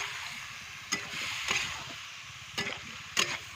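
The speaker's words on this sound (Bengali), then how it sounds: "এবার এটাকে আমি ভালো করে কষাবো" Fish curry spice paste with ground masala and a splash of water being stirred and sautéed in a pan in a village kitchen, steady soft sizzle broken by four sharp spatula scrapes.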